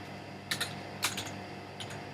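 A few soft computer keyboard keystrokes click in quick pairs against a quiet room hiss, faint and close.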